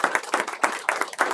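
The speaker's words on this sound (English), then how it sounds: "Please give all them a round of applause." An audience applauding at a juried art show, a small group clapping in close, uneven bursts of distinct hand claps that rise and fall over a brief stretch.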